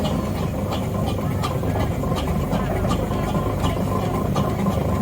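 A Marshall steam engine built in Gainsborough rumbles steadily as it moves along at a steam rally parade, a continuous close, heavy chugging drone with faint clanks over it, and a voice talks faintly in the background.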